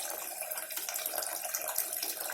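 Water gushing steadily from an opened tap fed by an overhead storage tank, a continuous close hiss and splash with no pauses.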